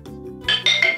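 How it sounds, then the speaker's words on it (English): Xylophone from a children's instrument set struck three times in a quick rising sequence, bright ringing metallic-sounding notes after a softer lead-in, alone without talk. "Xylophone."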